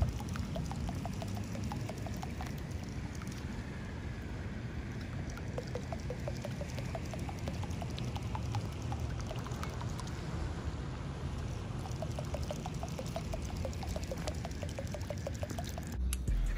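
A Drunken Mullet prop bait fishing lure churns steadily through water, giving a continuous close gurgling wash with a fast, regular ticking sputter from the spinning prop that goes on unbroken throughout.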